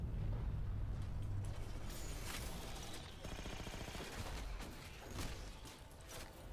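An auto turret fires in Halo 4 Spartan Ops, a steady stream of rapid shots that overlaps other battle noise and stays loud and continuous throughout.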